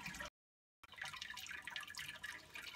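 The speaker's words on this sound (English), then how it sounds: "It's sparging very nice." Wort runs and drips steadily from the grain bed while an amber ale mash is sparged, a continuous wet trickling that cuts out briefly near the start and then resumes close by.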